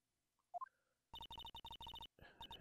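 Redial on a telephone in the Phoenix Wright: Ace Attorney video game, a couple of short blips followed by a rapid run of about a dozen evenly spaced dialing tones, then a ringing tone beginning.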